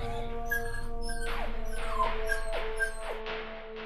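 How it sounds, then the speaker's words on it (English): A hurting dog whimpers in a string of short, high, falling yelps and whines over a steady background hum, fairly close. "This poor dog is hurting."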